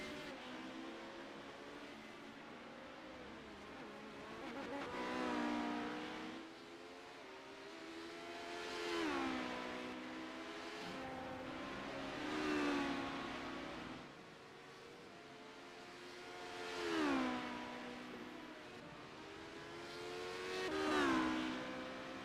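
Race cars at a CORE Premier Series event at the Carolina Cruise brake, downshift and rev through a chicane, the engine note rising and falling in five repeated swells, each louder as a car passes near, with no talk.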